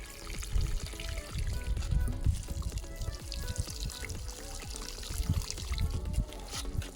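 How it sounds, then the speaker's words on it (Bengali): Water poured a little at a time over newly planted seedlings, a close, continuous splashing trickle with uneven surges, heard on its own without any voices. "লাস্ট ফিনিশিং চারার গায়ে একটু করে পানি দিয়ে দিচ্ছি।"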